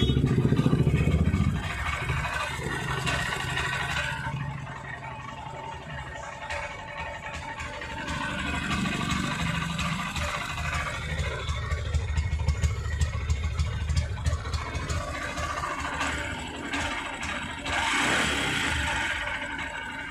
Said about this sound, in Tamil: இப்போ வந்து கீயை வந்து ஆன் பண்ணிவிட்டு வண்டியை வந்து ஸ்டார்ட் பண்ணி பார்ப்போம்